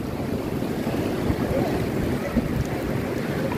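Sea waves at the beach, heard as a constant loud rush of surf mixed with wind buffeting the microphone, steady throughout with no clear voices.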